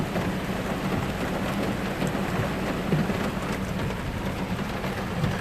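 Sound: heavy rain falling on a Seoul street

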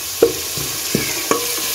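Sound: onions frying in ghee in a pan

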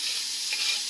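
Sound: chopped onion and carrot frying in vegetable oil in a pan

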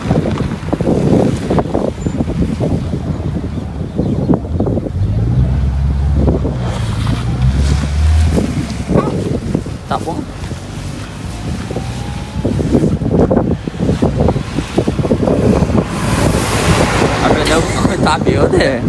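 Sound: wind blowing

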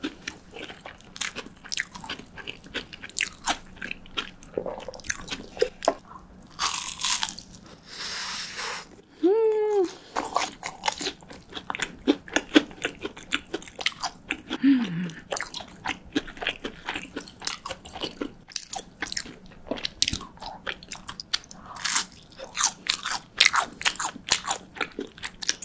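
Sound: biting and chewing crunchy cheese sticks

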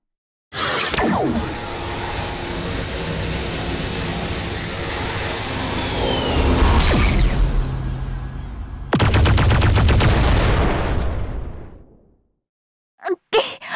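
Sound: explosion in the video game Elsword

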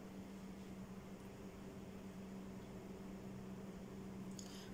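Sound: electric fans and air conditioning running in room

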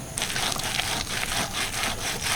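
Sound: rubbing palm fruit seeds to extract pulp

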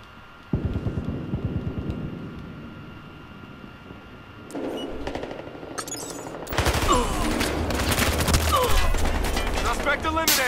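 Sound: gunfire in the video game Battlefield Hardline

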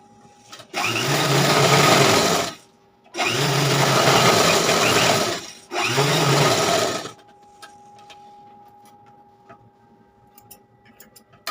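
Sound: sewing machine stitching blouse fabric

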